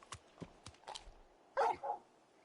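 A dog barks in Final Fantasy XVI: several quick, soft yips and clicks build into two louder barks close together, with no talk over them.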